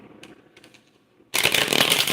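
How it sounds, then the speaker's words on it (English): Tarot cards are shuffled. Faint riffling comes first, then a sudden loud burst of dense, crisp card shuffling fills the second half. "I'm going to go ahead and be shuffling the cards"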